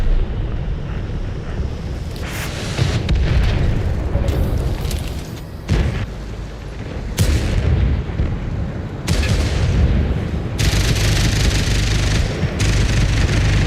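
Booming tank cannon shots ring out in World of Tanks on console, with several heavy blasts spaced a second or two apart over a continuous rumbling engine and battle background.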